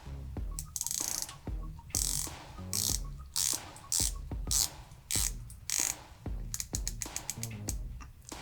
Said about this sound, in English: I do want to do bezel action really quickly